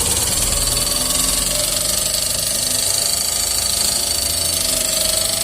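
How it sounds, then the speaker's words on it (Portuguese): A VW Gol G6 engine running with a knocking from the top end, suspected broken rocker or tappet, heard up close as a loud, steady mechanical clatter over the constant engine drone. "tá batendo em cima, deve ter quebrado algum balancinho ou tucho"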